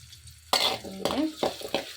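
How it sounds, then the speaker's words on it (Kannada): A medium onion dropped into hot oil tempered with mustard seeds and cumin for an ivy gourd gojju, bursts of loud sizzling and a few spatula scrapes against the pan, close up. "ಒಂದು ಈರುಳ್ಳಿನೂ ಸಹ ಹಾಕ್ಕೊಳ್ಳೋಣ ಇದು ಸ್ವಲ್ಪ ಲೈಟಾಗಿ ಹಸಿ ವಾಸನೆ ಎಲ್ಲ ಹೋಗೋಷ್ಟು ಫ್ರೈ ಆಗಲಿ"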